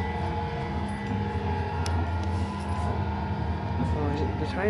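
A steady, droning engine rumble from a 1972 Hitachi train, with harmonic tones, continuous and fairly close, with a voice murmuring faintly beneath it.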